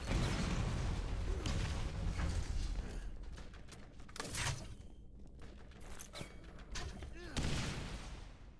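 Rapid turret gunfire in Borderlands 1 rattles in dense bursts, loud at first and then more scattered, with sharp cracks and mechanical clatter over a busy game soundscape.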